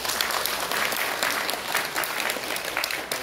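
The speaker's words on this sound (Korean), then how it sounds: "큰 박수 부탁드립니다" Steady applause from an audience at a formal South Korean political event's opening ceremony, dense and sustained clapping filling the room at an even level with no voices.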